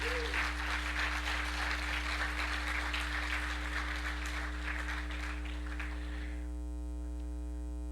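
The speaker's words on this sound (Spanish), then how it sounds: "Dele palmas a Cristo." A church congregation applauding, a sustained wash of many hands clapping over a steady mains hum, fading out toward the end to leave only the hum.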